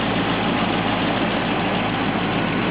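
A scout vehicle's engine idles steadily, with a possible small leak at the exhaust header, giving a constant low rumbling drone with a faint rhythmic pulse, close and loud, without speech.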